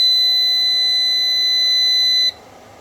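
A repaired inverter, fitted with a new rectifier diode and a 330-ohm charging resistor, gives a steady, piercing high-pitched electronic tone for a little over two seconds that cuts off abruptly, with no voices.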